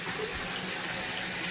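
Tap water runs in a steady, close, even rush as toddlers play with it at home, with no voices heard over the flow.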